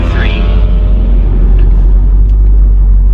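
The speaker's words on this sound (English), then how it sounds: "when you're shifting through the gears manually, you have a 4-speed automatic, so you can shift through the gears 1, 2," A supercharged Corvette with a four-speed automatic transmission, being shifted manually through the gears. A brief whine opens the sound, then it settles into a loud, steady, deep engine rumble.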